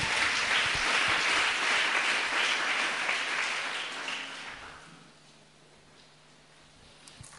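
Congregation in a church service applauding together, a dense burst of clapping that fills the first four seconds, then fades out into near silence.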